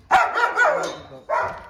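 Dogs barking in their enclosure at a house in the Alatau district of Almaty, with two long, loud, rough bursts of barking close by and a short gap between them.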